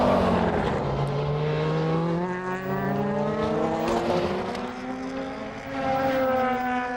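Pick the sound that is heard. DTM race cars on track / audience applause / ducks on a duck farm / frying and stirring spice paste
DTM race cars on track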